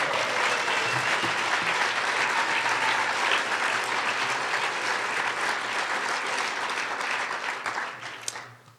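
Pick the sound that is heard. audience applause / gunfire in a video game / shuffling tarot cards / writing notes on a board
audience applause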